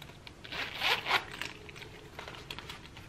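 A metal zipper on a Coach zip-around wallet runs around the wallet with a close, raspy scratching that peaks twice and then fades into a softer, lighter rasp.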